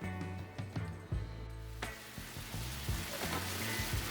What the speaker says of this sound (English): So I'm going to add 2 of these tablespoons of oil to the pan.